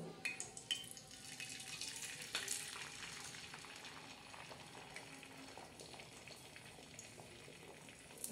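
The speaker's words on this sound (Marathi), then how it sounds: "तर ह्या पद्धतीने आपण ते सोडलं, हे आमलेट अंड सोडलेलं आहे।" Beaten egg mixed with onion, green chilli, coriander, turmeric and salt sizzles on a hot griddle as an omelette, a faint steady frying crackle with occasional soft clinks and stirring sounds.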